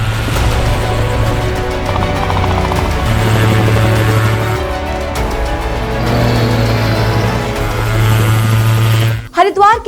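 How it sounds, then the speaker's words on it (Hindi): A gyrocopter makes its first test flight in Uttarakhand, and its rotor and engine give a loud, continuous droning throb that stays steady before cutting off abruptly near the end. "उत्तराखंड सरकार ने जायरोकॉप्टर की पहली परीक्षण उड़ान सफलतापूर्वक पूरी कर ली है।"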